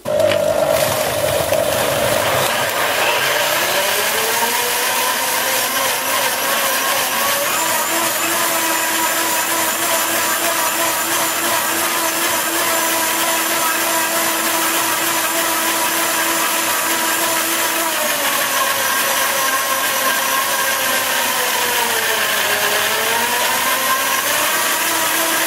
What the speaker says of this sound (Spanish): Os he enseñado exactamente lo que tarda la batidora en preparar el batido.